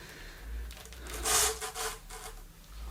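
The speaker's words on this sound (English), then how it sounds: "I'm starting with a P100 abrasive on the Silverline sander to take the worst of the lumps and bumps away" Silverline power sander fitted with P100 abrasive working over wood for a storage cube build, a short gritty rubbing and whirring burst that swells loudest in the middle and then tails off, close up and without speech.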